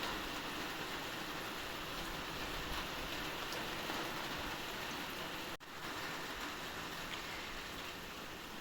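Heavy, steady rain pours down over a garden, a dense continuous hiss that stays even and loud throughout with no voices.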